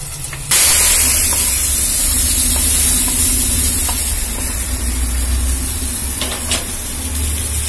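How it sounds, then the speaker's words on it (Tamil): Tempering spices for kalavai pulikkaai tamarind kulambu hit hot oil with a sudden loud sizzle that holds as a steady, fierce hiss, easing slightly toward the end. "இப்ப தாளிச்சிடலாம்"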